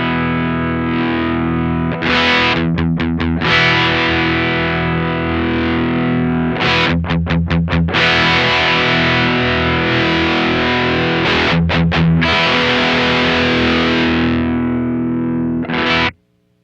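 An electric guitar runs through a Strymon Riverside overdrive pedal, its sustained distorted chords swelling and shifting in tone as the expression pedal blends between two settings. Bursts of fast choppy strums break in now and then before a final ringing chord cuts off.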